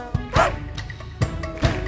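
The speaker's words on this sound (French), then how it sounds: "Le petit chien, petit chien, petit chien." Small dog barking in a children's French animal song, a few sharp yips spaced across a couple of seconds, fairly close and clear over a faint musical background.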